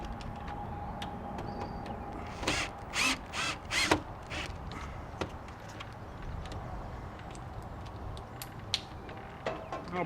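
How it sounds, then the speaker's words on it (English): Several short bursts of a power drill driving screws, whirring in quick succession, fairly close, over a low background hum with a few sharp clicks, while installing an RV latch. "I've upgraded to using my drill instead of doing these by hand"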